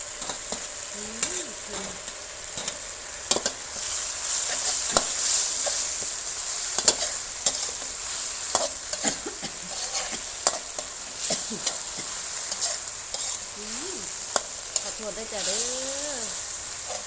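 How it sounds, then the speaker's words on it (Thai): Crispy pork stir-fried with holy basil in a pan, a steady sizzle punctuated by sharp clanks and scrapes of a spatula against the pan, with brief spoken remarks over the cooking. "ผัด"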